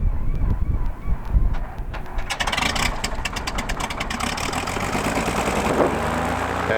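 The rear engine of a twin-engine light plane with mechanical fuel pumps cranks with a short rumble, then catches and roars into a loud, close, steady run.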